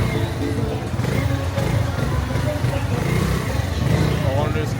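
A small rental scooter's engine runs steadily at close range on a Yucatán road trip in Mexico, a continuous low motor drone with a slight rise in revs near the end, with voices talking over it.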